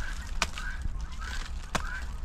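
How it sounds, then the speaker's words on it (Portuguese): Guinea fowl call outdoors with harsh, nasal, repeated honking cries in a loose rhythm at moderate distance, broken by a few sharp clicks or cackles over a faint steady background. "Olha as galinhas de Angola cantando."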